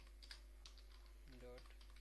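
Java code typed on a computer keyboard: quick, light key clicks in irregular bursts, close and faint, with a voice speaking briefly between the keystrokes.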